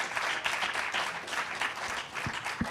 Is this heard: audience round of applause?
yes